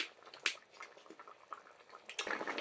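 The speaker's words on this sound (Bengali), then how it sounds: "ধোকাগুলো একটু নাড়াচাড়া করে হালকা একটু ফুটিয়ে নিতে হবে" Dhoka lentil cakes simmer in a pot of boiling gravy, giving a soft, steady bubbling and gentle liquid blips with a few sharper pops, close and fairly quiet, with no talking.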